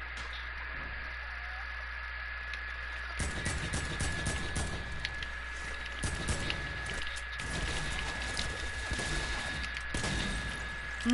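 Bursts of gunfire in a shooter video game, pump shotgun blasts among them, crackle over a steady electronic hum and static, with several sharp clustered shots across the middle.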